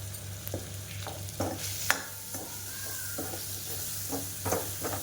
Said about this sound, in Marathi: छानपैकी आपल्याला हे मसाला फ्राय करून घ्यायचा आहे तेलावरती.